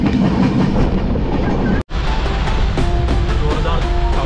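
LTT–Karmali Express train running on the Konkan line in rainy monsoon weather: a loud, steady rumble with rhythmic wheel clatter, briefly cutting out for a moment before continuing.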